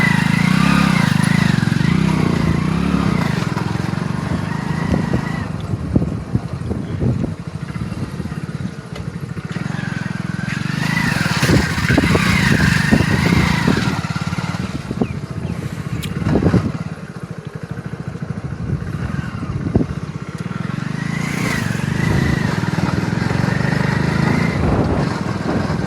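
A motorcycle rides through a muddy stretch of the Banas riverbed, its engine droning loud and continuous with rising and falling revs under rushing wind noise.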